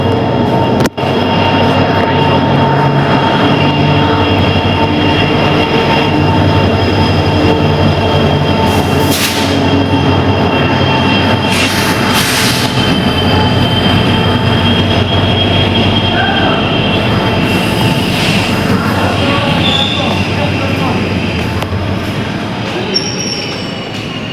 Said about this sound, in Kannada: ಟ್ರೈನ್ ಬರೋದಷ್ಟೇ 5 ಮಿನಿಟ್ಸಲ್ಲಿ ಬರುತ್ತೆ